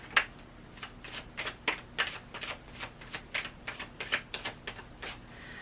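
Tarot cards being shuffled, a quick run of about a dozen crisp riffling bursts in an uneven rhythm, close and fairly quiet, with no talking.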